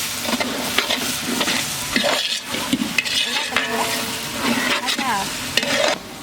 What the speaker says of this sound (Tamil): இது வந்து கசகசா 50 கிராம் அரைச்சி எடுத்து வச்சுருக்கு. அதை இதில் சேர்த்துறேன்.